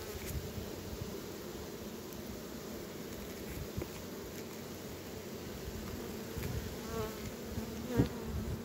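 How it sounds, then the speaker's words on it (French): Honeybees buzzing in a steady drone around an open beehive during an early spring inspection, a dense close hum with a few louder passes near the end. "il y a des abeilles qui, bon, ils sont plus partis"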